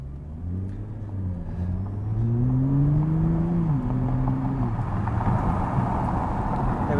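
A 2017 Nissan GT-R and a Tesla Model S accelerate hard toward 50 mph; a steady engine drone rises in pitch, dips briefly as if shifting, then carries on as a loud, close rumble with road noise.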